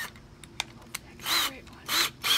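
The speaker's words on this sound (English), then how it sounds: "to do that, we're going to use a step bit," A drill fitted with a step bit bores a hole, heard as three short, loud whirring bursts separated by a few clicks and taps, close up.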